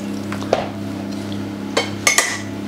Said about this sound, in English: we're going to stir it and then taste it one final time